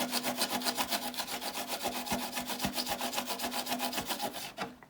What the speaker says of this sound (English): I'm going to go ahead and scuff the bottom side where the glue is going to go